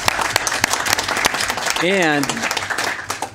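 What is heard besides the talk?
audience applause at town council meeting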